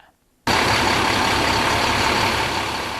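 A hybrid hydraulic garbage truck engine cuts in abruptly after a brief quiet moment, then runs as a loud, steady broadband roar that eases slightly toward the end.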